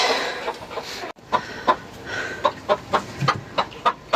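Hens on an allotment cluck in a quick, regular run of short, close calls, with one brief break early on before the steady clucking resumes.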